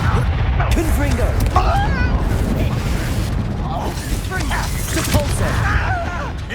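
A Confringo fire spell cast in Hogwarts Legacy bursts amid dense, continuous combat noise, with rumbling blasts and crackling layered throughout at a steady, loud level.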